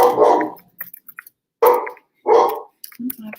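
A dog barks three times, loud and close, with short pauses between the sharp woofs and a softer grumble at the end.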